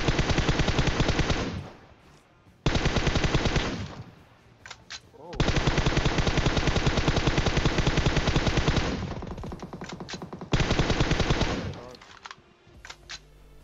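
Rapid automatic gunfire in a PUBG firefight, with enemies firing M24 rifles, comes in several long, loud, dense bursts separated by short pauses and fading echoes.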